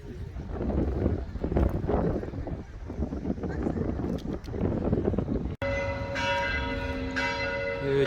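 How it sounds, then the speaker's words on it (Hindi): Church bells ring out on a Sunday in Bergen, Norway. A steady outdoor rumble comes first, then sustained, overlapping bell tones take over clearly for the last few seconds. "चर्च की घंटियां बजनी शुरू हो गई हैं।"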